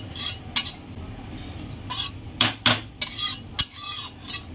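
Black pepper, clove and cumin are dry-roasted in a wok, and a metal spatula clinks and scrapes against the pan. Sharp strikes come in irregular bursts, close and fairly loud, with no talking.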